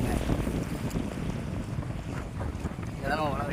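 A fishing boat out on the Arabian Sea, with steady wind rushing over the microphone and the wash of waves and engine rumble underneath, loud and continuous.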